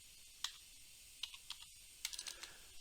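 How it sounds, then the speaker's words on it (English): Computer keyboard keys tapped in short bursts while entering data into spreadsheet cells, a handful of crisp clicks with brief pauses between, close and alone with no talking. "use the delete key to just delete individual characters in my text"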